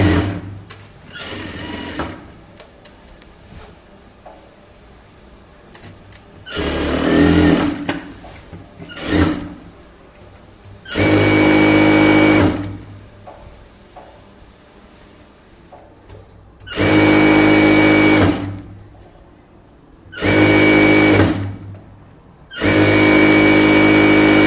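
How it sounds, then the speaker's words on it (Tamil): Sewing machine stitching around chudithar lining about a quarter inch in, running in several loud, steady bursts of whirring stitches separated by quieter pauses with small handling noises, close up and without talk. "அந்த லைனிங்கில் சுற்றி ஒரு கால் இன்ச்சு தள்ளி தையல் போட்டுடலாம்."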